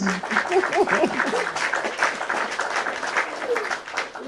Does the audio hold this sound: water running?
no